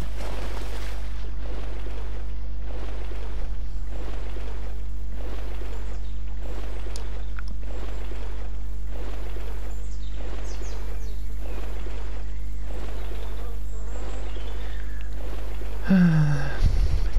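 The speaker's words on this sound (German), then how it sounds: "Gut, dass mein Pferd so gut schwimmen kann." A horse swimming through water in the game My Little Riding Champion makes about a dozen regular rhythmic splashing strokes over a low hum, ending in a brief louder burst.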